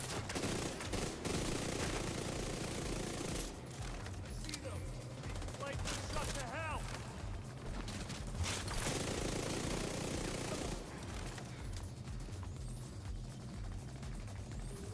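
Sustained SMG gunfire in the shooter game The Division 2, dense automatic bursts filling a loud, chaotic firefight with mechanical clatter, brief lulls between strings of shots, and players speaking over the action.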